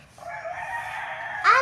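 A rooster crows once nearby, a loud, drawn-out call that rises and holds before breaking off, with faint background noise and no talk.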